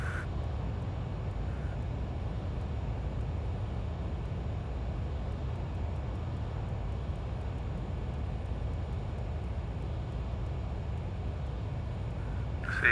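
Learjet 35A jet engines in Microsoft Flight Simulator hold a steady, even drone after the throttle is eased back, a constant muffled cockpit hum with no break.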